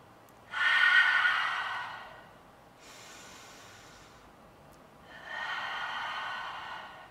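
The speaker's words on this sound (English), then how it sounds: "We're gonna take some big breaths together." Three big deep breaths taken in unison, each a long breathy rush of air lasting one to two seconds with short pauses between, close and clear with no talking.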